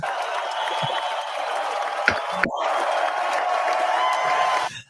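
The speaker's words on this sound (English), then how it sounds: "Let's give her a big round of applause." At a scholarship and recognition awards ceremony, an audience claps steadily and cheers for a guest, the crowd noise continuous and broad with a couple of sharp knocks standing out.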